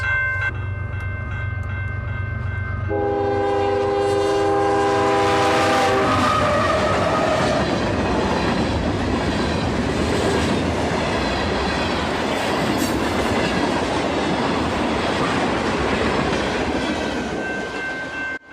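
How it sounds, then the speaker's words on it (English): A train horn blasts as a train rolls past a railway crossing, followed by a long rushing roar and rhythmic clatter of wheels, with a brief squeal, fading at the end. "Let's watch the train go by."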